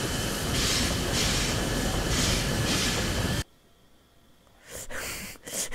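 A Terrier steam locomotive coasts along the rails with a loud, steady rolling rumble that cuts off abruptly, then returns in bursts near the end.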